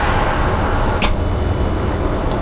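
Steady rumbling road noise fills the cabin of a small Citroen Ami electric car on the move, a loud constant low drone with one brief sharp click partway through and no talking.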